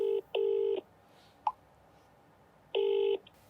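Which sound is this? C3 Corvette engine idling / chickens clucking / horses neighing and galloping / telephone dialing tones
telephone dialing tones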